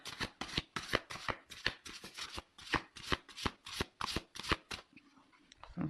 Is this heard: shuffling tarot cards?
yes